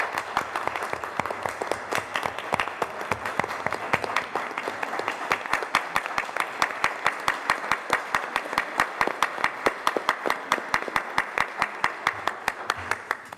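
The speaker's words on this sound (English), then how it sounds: "We need to give this man a round of applause." Crisp clapping at a school board of education meeting, fast individual claps standing out clearly in a steady rhythm, moderately loud and continuing without pause.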